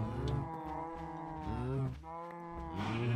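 Several cows in a Minecraft-style video game moo in long, drawn-out, overlapping calls, loud and close, one after another with barely a pause.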